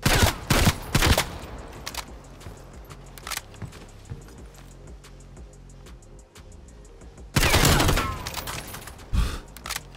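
Uzi submachine gun from the Call of Duty Cold War video game firing in short loud bursts of rapid shots at the start and again near the end, with quieter mechanical handling sounds between.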